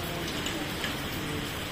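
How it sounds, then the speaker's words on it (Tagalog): Heavy rain pours steadily outdoors near the sea, a dense, continuous hiss of drops with no talking. "Kaya lang grabing ulan."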